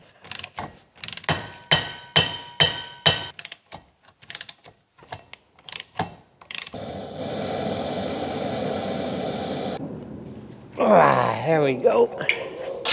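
Hand-turned prop shaft nuts come off a BMW 850i (E31 V12) driveshaft at the differential, giving a run of sharp metallic clicks and ratchet-like ticks, then a steady hiss and a short burst near the end, with a brief spoken remark.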